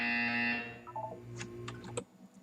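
A buzzer in the video game Portal 2, a loud sustained harmonic electronic drone that cuts off after about a second, followed by lighter mechanical clicks and tones.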